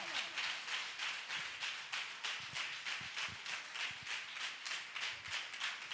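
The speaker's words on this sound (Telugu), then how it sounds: "బైబిల్ పక్కన పెట్టి కొడు చప్పట్లు" Church congregation of men, women, youth and children clapping together during a Sunday service, a steady rhythmic applause of many hands sustained throughout, loud and close, with no talk over it.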